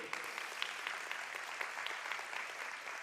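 A church congregation claps in thanks to God during a service, a soft, steady patter of many hands heard at a distance, with a few sharper claps standing out and no talk over it.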